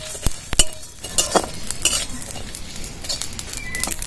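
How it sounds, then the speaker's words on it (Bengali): Coriander and cumin are stirred while dry-roasting in a pan, a metal spoon scraping and clinking against it in irregular strokes, close up, over a faint background hiss. "ভালো করে নাড়াচাড়া করে ভেজে নেব।"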